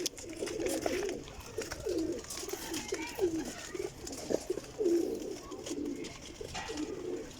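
Pigeons coo repeatedly in soft, rolling phrases, several birds overlapping at moderate distance with faint background noise.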